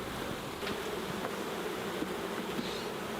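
Honey bees buzz inside a hive, a dense, continuous low drone of thousands of insects with faint individual wingbeats rising briefly, fairly quiet and steady with no voices.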